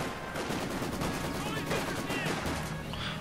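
Machine gun fire in Company of Heroes 2, a World War II real-time strategy game, rattling as dense, continuous bursts over a busy battlefield din, with a voice speaking faintly underneath.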